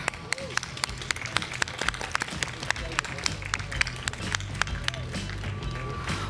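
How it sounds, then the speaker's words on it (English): A crowd at a Long Beach Grand Prix motorsports hall of fame induction gives applause with sharp distinct claps standing out over a steady murmur, continuing throughout. "Please join me in another round of applause."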